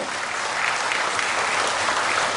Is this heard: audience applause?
yes